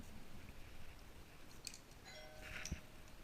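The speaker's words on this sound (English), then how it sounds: "Oh, the doorbell's ringing." A faint electronic chime rings twice in a quiet room, soft tones over steady background hiss, with a small knock near the end.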